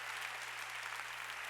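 A church congregation applauds during a Sunday worship service, a steady, even wash of many hands clapping together at a low, distant level with a faint hum beneath.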